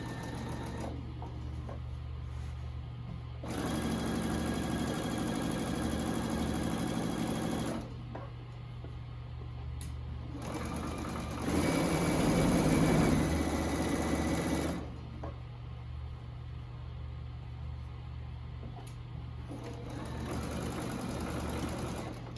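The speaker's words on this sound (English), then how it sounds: "I'm gonna stitch along here." A sewing machine stitches a quilt-as-you-go table runner in long continuous whirring runs with short pauses between them, close and steady, with no talking.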